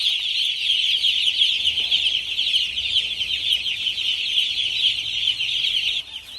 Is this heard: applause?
no